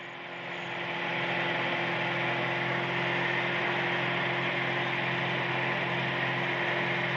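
A light aircraft engine drones steadily in flight after takeoff with power eased back, a loud continuous propeller hum filling the cabin without a break and with no talking.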